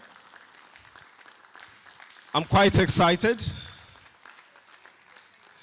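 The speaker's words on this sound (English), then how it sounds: "Please keep clapping, keep clapping." An audience at a business outlook and alumni general meeting claps in a short burst of applause that swells and fades, with speech over quieter background before and after.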